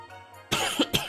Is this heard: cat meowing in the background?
no